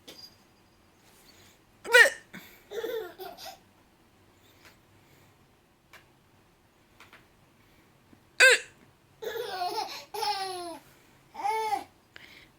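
An adult's sharp hiccups, one near 2 seconds and another near 8.5 seconds, each followed by a baby's bursts of babbling laughter, with quiet pauses in between.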